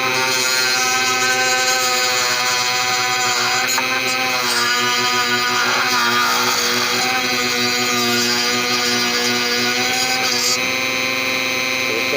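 A power tool whirs steadily at 15,000 RPM beside an aquarium filter being modified, a constant high-pitched motor whine with strong harmonic tones, close and loud throughout with slight wavering.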